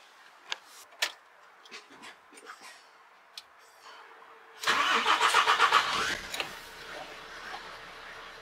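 A DAF four-axle container truck engine cranks with a key, a brief whirring starter burst, and catches, after a few scattered clicks and clunks in a quiet cab interior.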